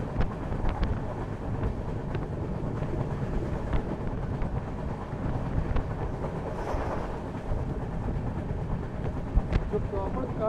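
A passenger train hauled by a diesel locomotive runs through tea estate country in monsoon rain, with steady rolling rumble and clatter heard from aboard, gusty wind buffeting, and faint voices in the background.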